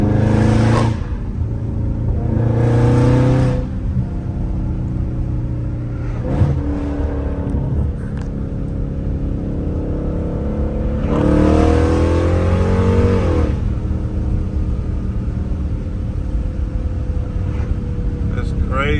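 Dodge Scat Pack engine revving in an echoing space, with repeated loud throaty rev bursts separated by idling rumble, and people talking over and between the pulls.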